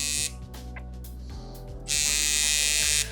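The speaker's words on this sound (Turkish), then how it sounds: "Şu an pedal yeriyle makineyi çalıştırıyorum." Rotary tattoo machine switched on with a foot pedal, giving a steady close electric buzz with a couple of short bursts before a louder sustained run of about a second.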